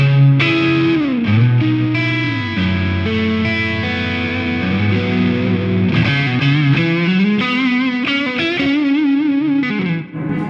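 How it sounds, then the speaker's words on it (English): Electric guitar played through a Jackson Audio El Guapo overdrive and distortion pedal, with overdrive stacked into distortion, giving a loud, saturated, sustained melodic line with bends and chorus-like shimmer, continuous and alone. "Now I can stack that overdrive into the distortion."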